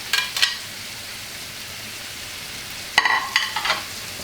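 Scallops and shrimp frying in a pan with wine, a steady soft sizzle punctuated by two bursts of stirring and scraping near the start and a cluster near the end, with no talking.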